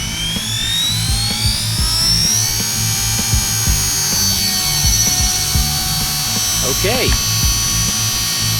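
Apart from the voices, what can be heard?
Heli-Max UH-60 Blackhawk RC helicopter flying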